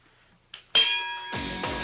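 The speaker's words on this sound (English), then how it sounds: "The bell has rung." Boxing ring bell clanging to open round one, a few bright metallic strikes that ring on, loud and close, with no talk over them.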